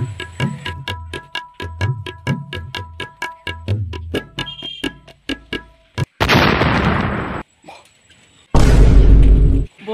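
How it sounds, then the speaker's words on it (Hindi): A string of sharp crackling pops gives way to two loud, sustained bursts of explosive noise, close and harsh, as Diwali firecrackers go off. "बोला था पटाखा फूटेगा"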